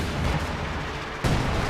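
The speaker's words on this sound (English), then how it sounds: "Yes, that was major artillery." Major artillery barrage in a real-time strategy game: a dense, rumbling burst of artillery fire, with a sharp louder impact near the end of the short stretch.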